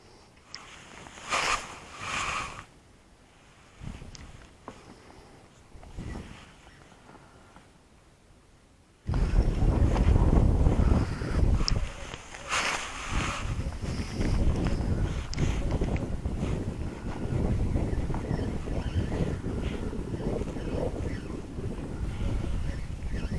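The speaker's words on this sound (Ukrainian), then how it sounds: "піднявся вітер" Quiet, scattered sounds give way to strong, continuous wind buffeting the microphone outdoors while pike fishing in November, a loud low roar that lasts to the end.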